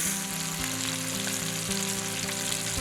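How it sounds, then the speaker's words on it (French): Salmon fillet frying skin side down in olive oil in a sauté pan gives a steady, close sizzle with crackling and spitting that holds at an even level throughout, with no talking. "Nous mettons notre saumon dans notre sauteuse. Vous le mettez bien côté peau."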